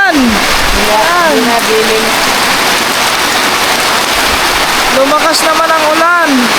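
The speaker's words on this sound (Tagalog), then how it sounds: "Lumakas naman ang ulan." Heavy rain pours in a steady, dense hiss, with people talking over it near the start and again toward the end.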